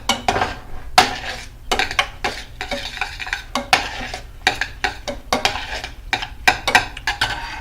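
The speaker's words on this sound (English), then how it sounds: "Okay, I'm just going to stir that." A spoon stirs food in a pot, scraping and clinking against the metal in irregular close strokes over a faint sizzle, with no voices.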